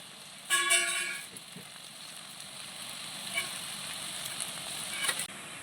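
Ripe mango pieces drop into medium-hot oil and set off a loud burst of sizzling that quickly settles into a steady, quieter frying hiss, with a few faint crackles afterward.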